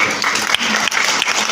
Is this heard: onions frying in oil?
no